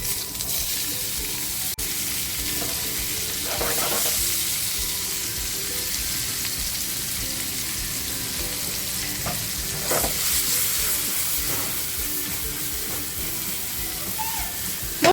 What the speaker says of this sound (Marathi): जो मी कांदा कापून घेतला होता ना तो कांदा टाकतीये